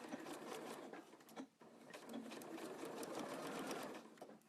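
A sewing machine runs steadily, stitching a zipper onto a fabric box bag and then reverse-stitching back to the end, with a brief pause in the middle before the continuous close motor hum resumes.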